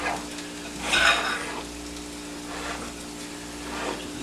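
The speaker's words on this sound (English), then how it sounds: "stir mine kind of from the outside to the inside" Sausage gravy is stirred in a pan: a spoon scrapes in a few slow strokes over a soft, constant sizzle, close and with no talking.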